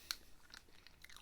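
Close, quiet chewing and crunching on a bite of GoMacro Macrobar, a chewy plant-based protein bar, with a few soft bites and mouth sounds and no talking.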